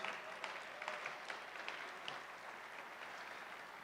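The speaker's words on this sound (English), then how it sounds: "Please give him a round of applause." Audience applause at a hackathon awards event during ETHDenver 2023, with many hands clapping steadily in a large room. It is fairly faint and distant, with a few sharper claps standing out early and the clapping slowly thinning toward the end.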